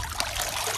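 Water trickling and dripping steadily from a water mint plant as it is lifted out of a garden pond, close and continuous, with no talking.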